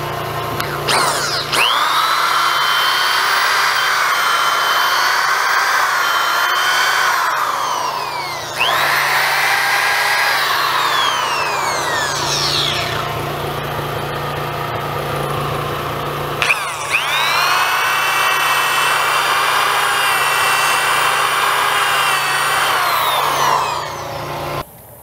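Power drill driving 5/16-inch, 4-inch hot dip galvanized lag bolts into wood on a covered bridge build: three long loud whining runs, pitch shifting and bogging as each bolt seats, with brief pauses between.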